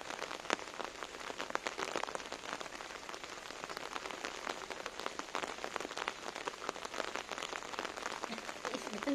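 Rain falls steadily with a dense, even patter of drops hitting surfaces, constant and moderately quiet throughout with no voices.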